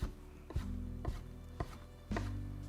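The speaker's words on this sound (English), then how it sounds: "So my bacon, I just chop into sort of lardons or small pieces" A knife chops streaky bacon into lardons on a board with four sharp, evenly spaced thuds about half a second apart, close and clear, with no talking.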